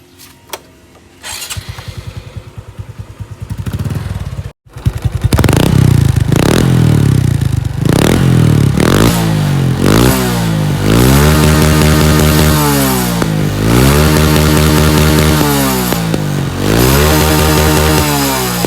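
A 125 cc motorcycle with a stock-size exhaust starts up close by, then revs hard in repeated loud rising and falling bursts over a rattling idle.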